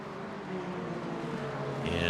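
Race car engine from a GT4 sports car series race at Indianapolis road course in a racing video game, a steady loud droning roar throughout with commentary voices talking over it.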